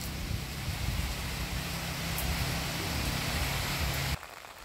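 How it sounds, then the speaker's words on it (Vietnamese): Heavy rain pours steadily in the Mekong Delta countryside, a dense, loud hiss that continues without a break and then drops away sharply near the end. "Bây giờ mưa quá trời luôn rồi sao mà về được đây."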